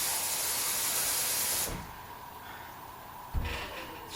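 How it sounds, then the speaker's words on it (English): Water poured into the bottom of a hot oven hisses loudly as steam for a sustained burst, then drops to a quieter sizzle with a brief second flare of hissing, and a voice speaks a word. "I'm going to put about a cup of water in the bottom here. That's just enough to generate some steam."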